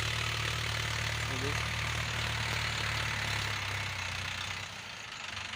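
A tractor engine idles steadily right after ploughing a rice field, a continuous low rumble with faint knocking that eases slightly near the end.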